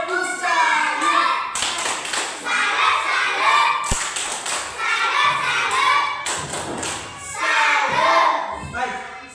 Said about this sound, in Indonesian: Kasih tepuk salut untuk kelompok 1 dengan kelompok 2.